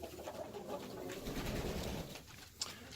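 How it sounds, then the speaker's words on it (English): Backyard farm flock of mixed chickens, including Americanas, Brahmas, Barred Rocks, Black Sex Links, Rhode Island Reds and Silver Lace Wyandottes, makes soft low murmuring and clucking close by, with a brief sharp call near the end. "So we have an entourage of chickens here, different varieties."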